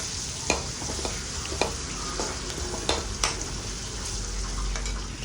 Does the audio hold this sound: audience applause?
no